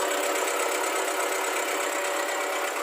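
A Toyota Corolla with a 2E engine idles steadily with a loud, continuous rapid clicking and knocking, close and alone, with a diesel-like clatter throughout.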